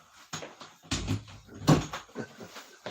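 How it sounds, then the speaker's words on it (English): An indoor door is pushed shut, producing several knocks and thumps: scuffling bumps and rattles build to a firmer closing thud near the middle, followed by lighter taps. "Let me close the door."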